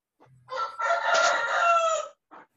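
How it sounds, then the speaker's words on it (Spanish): Rooster crows once, loud and close, a long drawn-out cry lasting over a second, with short faint calls just before and after against an otherwise quiet background. "Un gallo."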